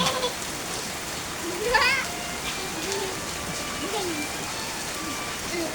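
Steady rain falls with wind in a cold rural Thai setting beside a campfire, a dense hiss under faint children's voices and talk.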